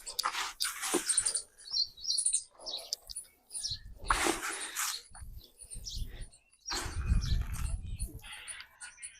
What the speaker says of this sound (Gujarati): ચકલી ને ખિસકોલી ને બધા ક્યારના અવાજ કરે છે